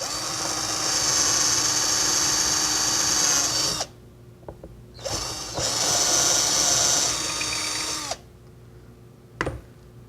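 Electric drill with a brad point bit boring shelf pin holes through a guide into wood: two long, loud high-pitched whirring bursts separated by quiet gaps, with short clicks and a brief final blip.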